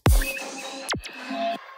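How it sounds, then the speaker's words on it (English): A synthesized zap from the pre-drop of an electronic track, a hard hit followed by sharp downward-sweeping zaps and buzzy tones, loud and close with no voices. "I have this other zap from the pre-drop"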